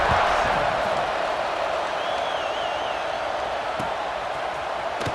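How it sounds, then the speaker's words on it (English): Stadium crowd in EA Sports College Football 26 buzzing after a score, a dense steady roar of voices with scattered claps and thuds, loud and continuous throughout. "this crowd is buzzing after that last score"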